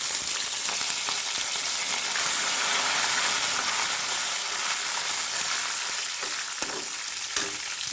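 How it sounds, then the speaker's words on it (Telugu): Curry leaves sizzling and crackling in hot oil in a pan on low heat while cooking vankaya (brinjal) curry, a steady close fry with a few sharper pops near the end. "ఇప్పుడు కరివేపాకు వేసేస్తున్నానండి."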